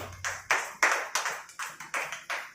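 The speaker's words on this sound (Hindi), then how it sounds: "पेस्ट के लिए जोरदार ताली होना चाहिए" Hands clap loudly for a paste at a DXN meeting in Hasanpur, about eight sharp separate claps in an uneven rhythm, close by and with no talk over them.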